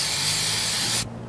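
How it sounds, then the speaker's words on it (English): Aerosol cleaner sprays in one steady, close hiss onto a car's mass air flow sensor wires, cutting off sharply after about a second. "point it at the sensor away from you, and just give each of those tiny little wires a good spray"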